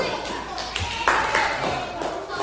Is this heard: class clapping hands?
yes